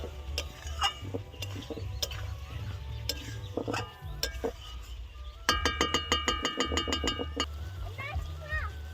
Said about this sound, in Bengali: টমেটো কুচিটা এবার দিয়ে দেবো হ্যাঁ। ভালো করে আর একটু কষিয়ে নেবো আলুটা